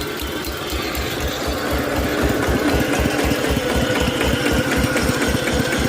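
A tractor engine idling at low revs, rattling and chugging steadily up close, with a rapid mechanical clatter and no talking.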